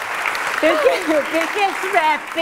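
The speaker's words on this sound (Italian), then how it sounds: "Facciamo un applauso" Audience applause at the final of a talent show rolls on as a steady wash of clapping beneath a person speaking over it.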